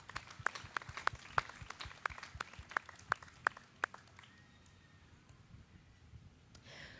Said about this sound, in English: Let's give Kayla applause and a warm welcome